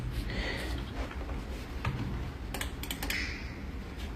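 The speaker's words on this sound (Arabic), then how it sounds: "هاي ماوس وكيبورد" Clicky key presses on a keyboard with mouse clicks while playing PUBG on an iPad, in quick irregular bursts, close and fairly quiet over a low background hum.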